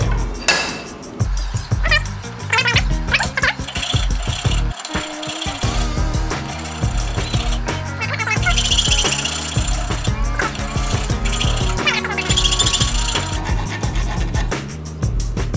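Metal filing or grinding on a handmade copper wrist band, rounding off sharp corners and edges, giving a dense, continuous rasping and rattling with irregular bursts, loud and close throughout with no talking.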